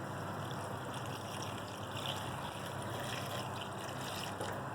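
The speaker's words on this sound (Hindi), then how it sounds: "अब इसके अंदर हम 2 गिलास पानी ऐड कर देंगे।" Two glasses of water poured into a pan of khara masala qeema make a steady, continuous rushing wash of liquid that holds at an even level throughout, with no talking.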